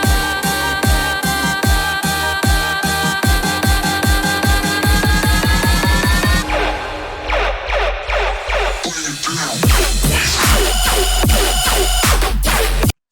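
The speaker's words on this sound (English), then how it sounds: "So you can hear how much wider and impactful that drop sounds." Dubstep track: a pounding, rhythmic build-up of steady repeated hits gives way to a loud, wide, heavy drop with deep bass and choppy bursts, all music with no talking.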